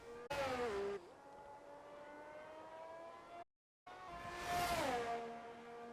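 A Formula 1 car in a racing game screams around the Imola circuit, its engine note rising and dropping through gear changes, with a brief gap of silence midway before a louder pass sweeps by.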